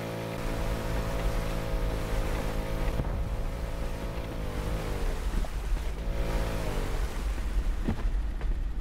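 A small boat in the video game Rust motors across water with a steady engine drone and wash, its pitch dipping and rising mid-way, continuous and fairly close.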